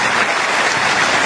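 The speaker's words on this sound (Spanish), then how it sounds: "El aplauso es para todos los que han sembrado y los que seguirán sembrando" A church congregation claps together in a dense, loud burst of applause filling the room, brief and even, without speech over it.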